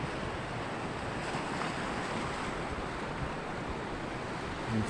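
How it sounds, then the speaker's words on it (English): Sea waves wash onto a beach in a steady broadband roar, mixed with wind buffeting the microphone, with no clear breaks between waves. "the beach and the sea"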